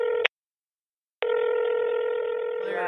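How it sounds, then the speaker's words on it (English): Telephone line tones: a short steady tone, about a second of silence, then a long sustained tone that runs to the end, loud and close, with no talking. "We'll bounce right into the call as David answered the phone and was ready to crisis counsel myself and Claire."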